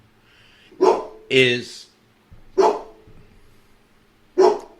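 A puppy barks at neighborhood dogs, giving three sharp, loud, evenly spaced barks with a person's voice briefly speaking between the first two.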